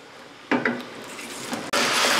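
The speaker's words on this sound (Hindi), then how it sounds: "चिकन को शिफ्ट कर देंगे अच्छे तरीके से चार से पाँच मिनट हम इसकी भुनाई करेंगे लहसुन और अदरक के पेस्ट के साथ" Chicken being roasted in a pot with garlic-ginger paste for a chicken nihari: a steady sizzle with brief scraping knocks of a spoon against the pot, then a louder, fuller hiss in the final stretch, with no talk.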